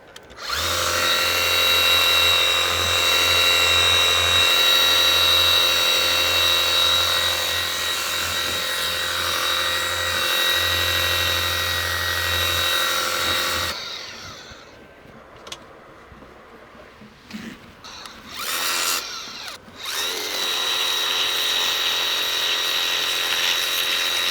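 A loud, steady high-pressure water spray from a Makita MHW180D 18V cordless pressure washer runs continuously while cleaning a grass trimmer, then cuts off and gives way to short bursts of spraying with quieter gaps.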